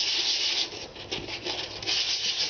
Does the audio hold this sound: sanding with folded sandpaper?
yes